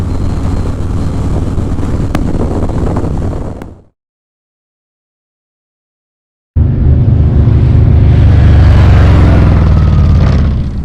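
Riding a 2019 Harley-Davidson Fat Boy motorcycle on a fall road, with steady loud engine and wind rumble that cuts out to near silence for a few seconds, then returns even stronger and fuller.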